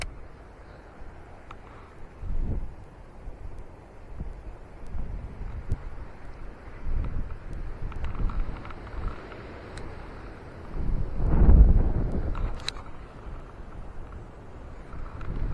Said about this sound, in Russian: Ветер этот крутит.